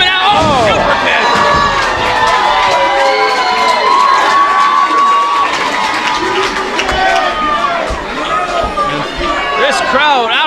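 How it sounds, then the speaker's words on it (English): Wrestling event crowd at a Knights of Columbus hall cheering and shouting loudly and continuously, with excited whoops and children's yells running dense through the whole stretch. "This crowd absolutely electric here."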